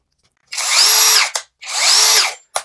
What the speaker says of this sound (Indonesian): kalau untuk pengeboran tembok, si fiturnya itu speednya itu harus speed yang paling kencang dalam artian di speed 2